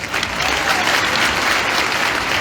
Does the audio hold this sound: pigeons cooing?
no